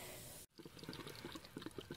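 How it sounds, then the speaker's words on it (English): Water runs steadily through a city water hookup into an RV's fresh water tank, a soft trickling and gurgling flow that starts after a brief cut near the beginning and continues quietly to the end. "Just filling up the fresh water tank, as you can see."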